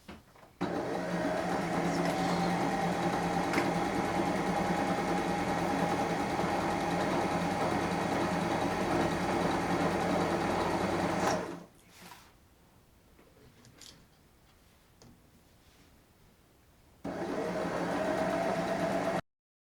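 A sewing machine runs steadily while stitching the inseam of comfy pants from a Simplicity pattern, a long continuous motor whir that stops for several seconds of near quiet before starting up again.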